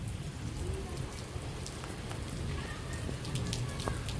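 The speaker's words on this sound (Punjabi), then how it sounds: "ਮੀਂਹ ਲੱਗ ਰਿਹਾ ਮੈਨੂੰ ਤਾਂ" Steady monsoon rain, the first of the rainy season, patters and hisses on surfaces close by, a dense continuous wash with scattered louder drops and no voices.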